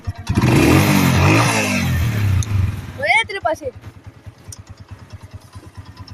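A motorcycle revs loudly up close, then settles into a rapid, uneven idle putter while people talk nearby.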